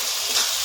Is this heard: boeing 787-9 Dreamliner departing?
no